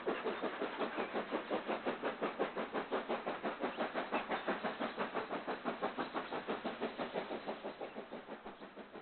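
BR Standard class locomotive number 80079 pulls away from Bewdley on the Severn Valley Railway with a train for Bridgnorth, giving steady rhythmic chuffing beats that hold an even pace throughout and fade slightly at the end.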